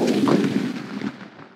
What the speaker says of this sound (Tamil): ஒரே டயத்துல போய் ட்ரிபிள் பால்ஸ் வெடிக்கும்.